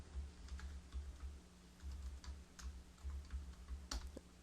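Steady, quick typing on a computer keyboard, soft close key clicks in an uneven rhythm over a low hum.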